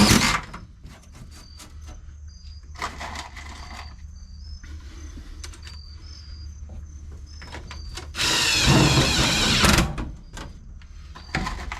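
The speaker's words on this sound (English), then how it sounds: "might be the frame I'm trying to drill into" A power drill bores into the frame of an old Datsun, with short bursts of motor whine and metal rubbing between quiet pauses, then a louder, rougher sustained grind near the end, heard close up.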